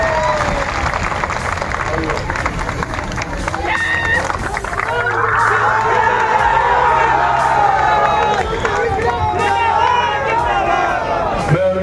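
A large crowd at a political rally in Bihar claps hard and cheers, dense applause and shouts building loudly and continuing throughout.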